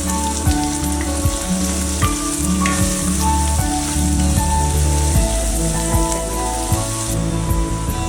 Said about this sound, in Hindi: और इसके बाद मैं ये प्याज डाल देती हूँ।